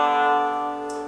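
A plucked banjo phrase rings out, bright sustained notes decaying together over about a second, no voices.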